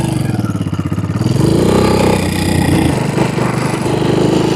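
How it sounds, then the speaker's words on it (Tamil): Restored 2001 motorcycle, started and ridden off, its engine chugging in a rhythmic idle before revving up and pulling away, loud and close throughout. "வண்டியை ஸ்டார்ட் பண்ணியாச்சு, கிளம்புவோம் வாங்க."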